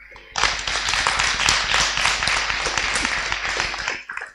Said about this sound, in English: why don't you give a clap for yourself?